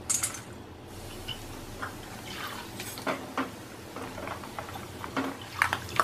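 Sliced almonds fry in hot oil for murmura namkeen, making a soft, irregular bubbling with scattered crackles and small pops, close and fairly quiet, without talk.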